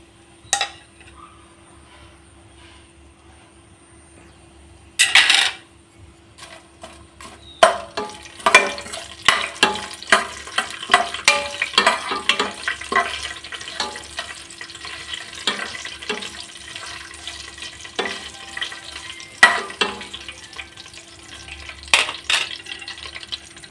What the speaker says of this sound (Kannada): ಎಣ್ಣೆ ಕಾಯ್ದಿದೆ. ಇವಾಗ ನಾನು ಇಲ್ಲಿ ಪಲಾವ್ಗೆ ಹಾಕೋ ಸಾಮಾನು ಹಾಕ್ಕೊಳ್ತಾ ಇದ್ದೀನಿ.